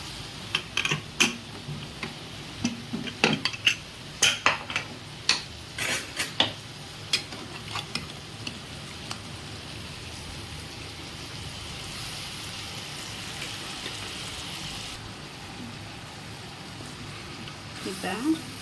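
Chicken tipped into a pan and stirred, with a burst of clattering spoon scrapes and taps on the metal early on, then a steady sizzling hiss; a voice talks intermittently over it.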